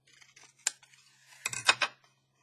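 Scissors snip through the top of a narrow paper window envelope being upcycled, a few short close cuts, the strongest crunching burst near the end.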